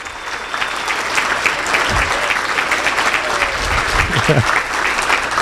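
A Rotary Club luncheon crowd applauds a band, steady close clapping at full volume throughout, with a few voices mixed in underneath.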